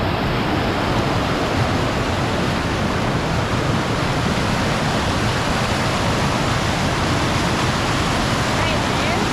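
Rushing creek water in Bair Canyon funneling through a narrow crossing, a loud, continuous broadband roar close by with no pauses.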